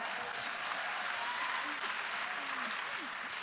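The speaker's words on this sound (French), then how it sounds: "Vous entendez la réaction de la foule." A crowd at a political event applauds loudly and continuously, dense clapping filling the space with a few voices reacting inside it.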